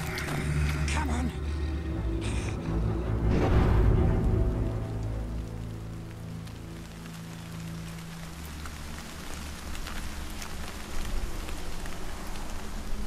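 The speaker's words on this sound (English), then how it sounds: "When did it start raining?" Rain pours steadily in Shadow of Mordor on PC, a dense hiss of falling water with heavier rumbling and thudding game sounds early on, while a voice talks over it.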